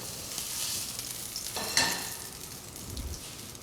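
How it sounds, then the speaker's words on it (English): Jerk-crusted tuna searing in a hot pan, a steady close sizzle and crackle running throughout with a brief sharper spike midway. "right about now, our tuna is perfectly seared"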